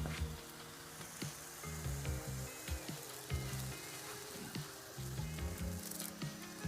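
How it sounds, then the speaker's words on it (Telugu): Curry leaves hitting hot oil for a fish curry make a soft, crackling sizzle with scattered pops and light stirring taps, fairly quiet and steady throughout, with no talking. "ఇప్పుడు మనం లైట్గా కరివేపాకు వేసుకుందాం."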